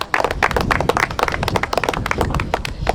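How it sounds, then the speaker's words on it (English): Audience clapping at a presentation, dense and steady hand claps filling the room for the whole stretch, loud and close with no talk over it. "So give him a clap."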